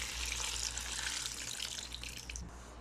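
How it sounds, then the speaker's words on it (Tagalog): Water pours steadily into a cooking pot for arroz caldo made with rice, glutinous rice and chicken cubes, a continuous close splashing rush with no speech. "Tapos maglalagay na ako ng water."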